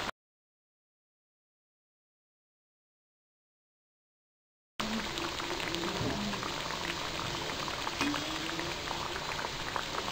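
Mathi frying in hot oil over a medium gas flame, a dense bubbling crackle that starts abruptly after nearly five seconds of silence and then continues steadily.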